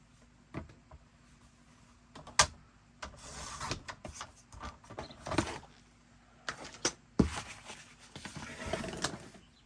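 Paper scraps are cut to size for a DIY travel journal, with close, uneven crisp slicing, rustling and handling bumps in irregular bursts.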